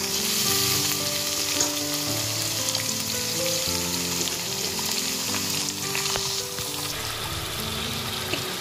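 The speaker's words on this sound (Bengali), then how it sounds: "এবার ওটা তেলের মধ্যে দিয়ে দিচ্ছি।" Chicken marinated with salt, vinegar and turmeric frying in hot oil, with a loud, constant sizzle and crackle held close throughout, and a faint background melody underneath.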